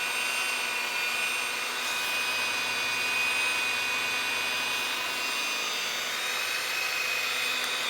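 Barjack professional rotary polisher running against a car panel edge, a steady high-pitched motor whine with broadband buffing hiss held at constant loudness throughout, close and alone with no talk.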